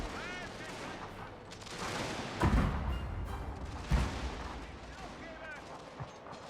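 Gunfire crackles in a Prussia war strategy video game, scattered volleys and a couple of heavier thumps mixed with rumbling battle noise at moderate level, with a faint voice underneath.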